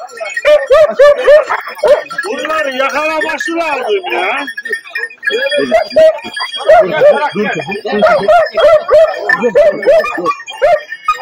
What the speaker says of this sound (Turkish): Şimdi şurada köpek havluyor, bakalım.